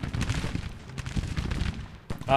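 Artillery and massed gunfire in the Civil War strategy game Grand Tactician, a busy rolling crackle of distant musket volleys and dull booms, steady throughout with a brief lull near the end.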